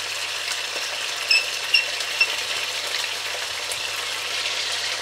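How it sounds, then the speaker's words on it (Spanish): Chopped chicken pieces fry in hot oil in a pot, giving a steady, close, loud sizzle with a few brief stirring clinks and no talk. "cuando el aceite ya está caliente vamos a añadir el pollo troceado"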